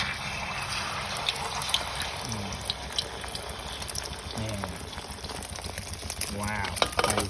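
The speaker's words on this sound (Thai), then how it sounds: "ตั้งกระทะร้อนแล้วนะครับ ไฟร้อนแล้ว นี่น้ำมันร้อนร้อนแล้วก็ เทไข่ลงไปเลย" Beaten eggs poured into hot oil in a heated pan for a Thai-style fried omelette make a steady, close sizzle and crackle throughout, with someone talking over it in places.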